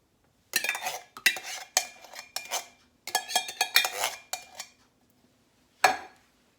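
A can of cream of mushroom soup emptied into a pan, clinking and scraping of metal and utensil against cookware in quick irregular bursts, close and alone with a final clack.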